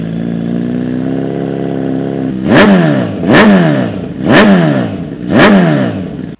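Kawasaki ZH2 motorcycle fitted with a full Brox exhaust, sprint filter and DynoJet, idling steadily, then blipped through four sharp, loud throttle revs that each fall quickly back to idle.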